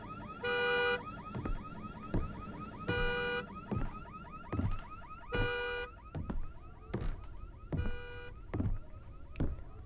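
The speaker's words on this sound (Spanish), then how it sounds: "Un auto, una alarma." Car alarm in the horror video game Visage, a loud electronic siren cycling through repeated bursts and chirping tones with short gaps, heard alone with no talk.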